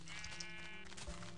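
Minecraft sheep bleat in a steady wavering tone through most of the moment, with a second bleat rising near the end, fairly close and clear with no talk over it.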